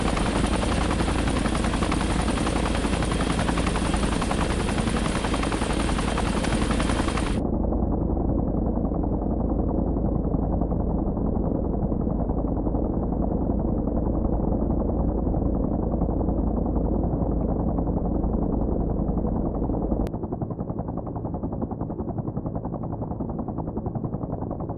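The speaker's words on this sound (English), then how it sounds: "Another chopper flew overhead, landing on the road." A helicopter flies overhead in the combat video game Harekat 2, a loud, steady rotor and engine roar that holds for the whole stretch with no talk.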